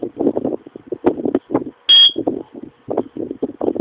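An airsoft shooting timer gives a single loud, sharp electronic start beep lasting about a quarter second, set mid-clip between stretches of someone talking.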